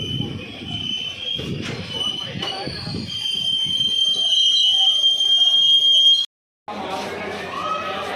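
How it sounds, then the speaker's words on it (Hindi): Ambala–Sri Ganganagar Intercity Express pulling into Abohar Junction, a loud, steady rumble of rolling wagons with high wheel squeal sustained throughout, broken by a brief gap near the end before the train noise resumes. "Sriganganagar intercity arriving at Abohar junction."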